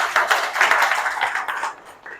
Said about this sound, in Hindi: एक बार तालियां हो जाएं जबरदस्त वाली